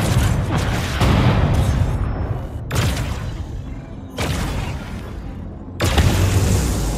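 Energy blisters blowing apart in the video game Chorus: four heavy booming explosions, each a loud broadband burst that rumbles and decays over a second or two, arriving at irregular intervals with mechanical creaks between them.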